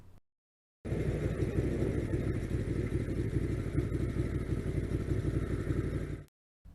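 A motorcycle engine runs steadily at a moderate distance, a continuous mid-pitched drone with faint clatter and no speech.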